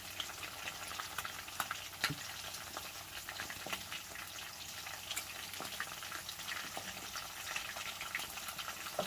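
Fish frying in oil gives a steady, soft, crackling sizzle throughout, with small pops scattered across the even hiss and no talk.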